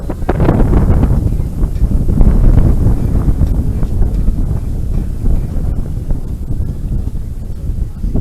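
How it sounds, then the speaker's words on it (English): Steady wind buffets the microphone throughout an outdoor ultimate frisbee semi-final on a breezy day, a loud continuous low rumble with gusty swells and no other clear sounds. "Seems to be more breezy today than it was yesterday."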